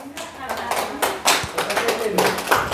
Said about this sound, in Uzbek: Biroz qarsaklar sadosi ostida qo'llab-quvvatlab turasizlar.